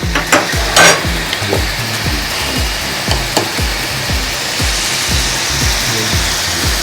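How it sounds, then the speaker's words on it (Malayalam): Sautéing for an egg fry with salt and turmeric: a steady, loud pan sizzle with a quick run of rhythmic spatula scrapes and taps against the pan. No one speaks. "ഇത് നന്നായിട്ട് ഒന്ന് വഴറ്റുക."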